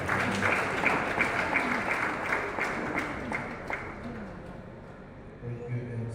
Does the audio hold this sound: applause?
yes